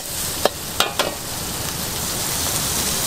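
Pork mince browns in a pan at a Thai street food stall, a loud, continuous sizzle broken early by three sharp scrapes of a utensil against the pan.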